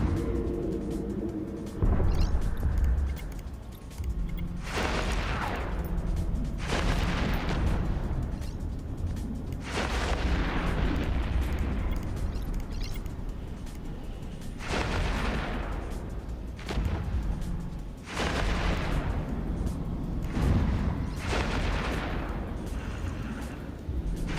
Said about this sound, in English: missiles have received the new explosion effects